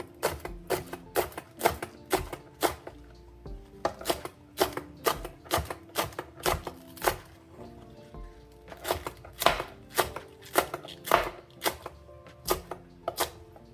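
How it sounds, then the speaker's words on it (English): Kitchen knife slicing green onions diagonally on a cutting board, a steady run of crisp, close chopping taps for several seconds, each cut sharp and distinct, with no one talking. "going to chop my green onions too"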